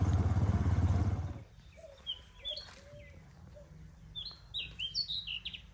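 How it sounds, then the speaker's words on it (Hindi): A very small bird chirping and singing near a village home in Punjab, with bright short tweets and trills scattered over a quiet background after a brief burst of rumbling noise at the start. "आज सुकून घर में एक परिंदा बोल रहा है तो बिल्कुल छोटी सी एक चिड़िया, और उसकी आवाज़ इतनी खूबसूरत लग रही है"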